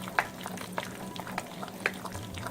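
Dhokla batter is gently mixed after a spoon of Eno is added. The batter gives a soft, fizzy, frothy rustle, with light spoon clicks ticking through it at a steady pace.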